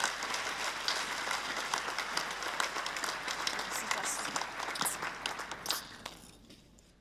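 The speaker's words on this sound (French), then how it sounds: "félicitations et applaudissements pour Clotilde." Audience applause at a New Year's greetings ceremony in Habsheim, a dense steady clapping from a hall crowd that carries on for several seconds before fading away at the end.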